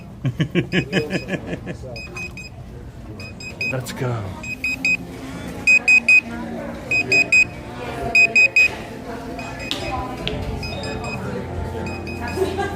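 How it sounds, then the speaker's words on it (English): A repeated electronic buzzer sounds in short, evenly spaced bursts over a running car engine in rush-hour traffic, with a brief spoken remark partway through. "I'm getting the buzzer."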